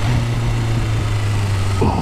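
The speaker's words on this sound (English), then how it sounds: "Oh, that burble." A motorcycle engine burbles at low revs, a steady deep exhaust rumble close by that shifts in pitch near the end, with no talking.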